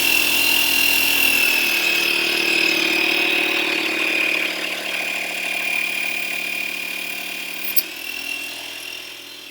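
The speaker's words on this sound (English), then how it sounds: "we're going to pressurize this bottle by adding more air to it using a pump." An air pump pressurizes a bottle, a loud continuous motorized whine with a high steady tone, its pitch shifting slightly around two and eight seconds as pressure builds, with no voices.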